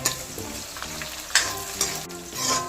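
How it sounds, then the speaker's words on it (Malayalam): Ginger, green chili, chopped garlic and curry leaves fry in hot oil, giving a steady close sizzle with a few sharper crackles and stirring scrapes, no voices. "നമുക്കിനി ഇഞ്ചി പച്ചമുളക് വെളുത്തുള്ളി അരിഞ്ഞത് അതുകൊണ്ട് വേപ്പല"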